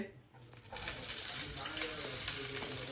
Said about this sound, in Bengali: এই যে এখন সে এটার ভিতরে পেঁয়াজ দিয়ে দিচ্ছে